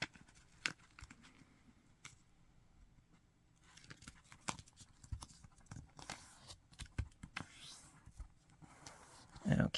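Paper being folded and creased for an origami box: soft rustles, taps and crinkles in irregular bursts close by, fairly faint.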